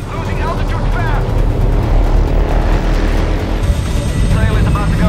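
A helicopter losing altitude under attack in a jungle battle film scene roars with a heavy, rumbling drone, mixed with loud engine noise and commotion, while voices speak over it.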